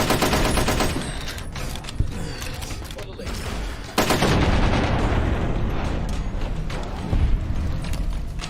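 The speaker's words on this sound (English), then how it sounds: "Oh, it's a turret." Automated turret in Fallout: New Vegas firing in dense, sustained bursts, loud and close, with a sharp surge around the midpoint and mechanical clatter layered through the barrage.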